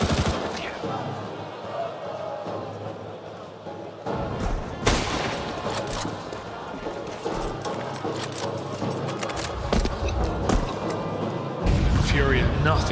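Counter-Strike 2 AK rifle fire in an esports grand final, rapid bursts and single taps mixed with other gunfire and impacts, heard under continuous excited commentary.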